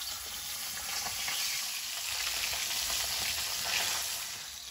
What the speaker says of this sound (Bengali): মাছটা ভাজা হতে হতে